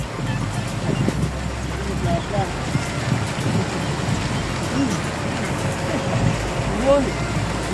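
Strong wind blows outdoors near a boat, a steady low roar and buffeting rumble against the microphone, with people talking at times.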